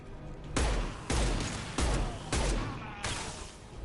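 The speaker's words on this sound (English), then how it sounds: "Firing an impact shot." Impact shot weapon fire in Mass Effect 2: five heavy, booming blasts at roughly even intervals, each hitting hard and then trailing off briefly before the next.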